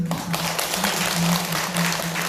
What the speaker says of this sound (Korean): 우리 하림 선장 스님께 감사의 큰 박수를